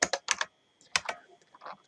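Typing on a computer keyboard while working in Android Studio: a quick cluster of crisp key clicks, a short pause, then another burst of lighter taps, close and clear.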